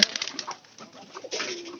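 Pigeons in a loft holding about thirteen pairs coo in soft, overlapping murmurs, fairly close, with a brief louder swell near the end.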